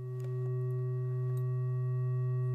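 Two steady sine tones set slightly apart in pitch, beating in a slow smooth pulse, held alone for a few seconds with no other sound.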